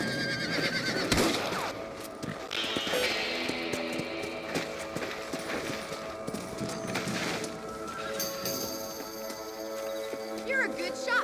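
Horses in the video game Red Dead Redemption whinny and clip-clop, hooves tapping steadily under game music and ambience, with voices talking over much of it and neighs cutting through loudly at moments.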